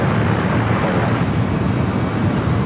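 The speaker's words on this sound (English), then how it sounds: "The Delta A350-900 coming from Atlanta, flight 763." A Delta A350-900 airliner arrives at LAX from Atlanta on the busy south side, producing a steady, loud broadband roar that holds evenly throughout with no talk.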